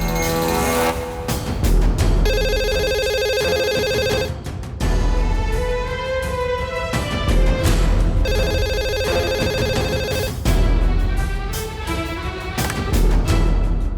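A landline telephone rings in a tense crime drama scene, its repeating electronic ring bursts cycling about every four seconds loud over a dense musical underscore, with no talking.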